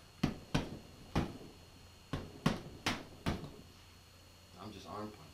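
Seven sharp punches with 16-ounce Everlast boxing gloves land as distinct thuds in an irregular rhythm, close and fairly loud, followed by brief quiet voices at the end.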